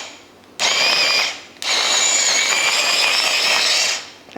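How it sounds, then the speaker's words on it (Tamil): An electric food chopper whirs in two bursts, a brief one-second run, a short pause, then a longer steady spin of about two and a half seconds, loud and close with a high mechanical whine. "இந்த எலக்ட்ரிக் சாப்பர் வந்து அதை விட எனக்கு ரொம்ப ஈஸியாக இருக்குங்க பாருங்க"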